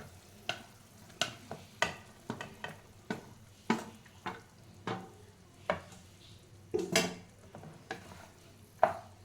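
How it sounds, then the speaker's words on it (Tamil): Cooked rice with instant puliyogare paste fries in a pan, with repeated sharp scraping strokes of a spoon over a soft background sizzle, spaced roughly every half second. "இப்போ சாதம் போட்டு நல்லா ஃப்ரை பண்ணிக்கலாம்"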